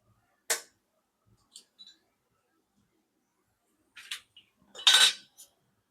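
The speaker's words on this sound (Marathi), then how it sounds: "चांगली फेटून घ्यायची." Eggs beaten in a bowl for street-style egg bhurji: sparse, sharp metallic clinks and taps with quiet gaps between, then a short cluster of brighter clatters near the end.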